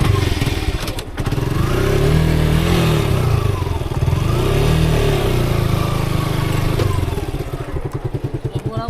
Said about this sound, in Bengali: টান দিয়া দিম মোটর।